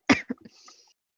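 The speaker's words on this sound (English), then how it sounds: "Coco coughs on this one." A single sharp cough followed by a couple of smaller throat-clearing hacks, brief and close, from Coco in Ace Attorney: Justice for All.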